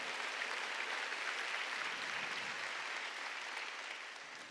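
A congregation applauds steadily at an Easter Sunday church service, a dense, even wash of clapping that fills the room and tapers slightly at the end.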